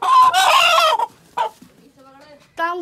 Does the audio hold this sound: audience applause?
no